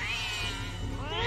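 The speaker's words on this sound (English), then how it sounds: "Oh, poor cat." A cat meows in the stop-motion animated film Coraline, a drawn-out plaintive cry with a rising wavering pitch, close and fairly loud, alone without talk.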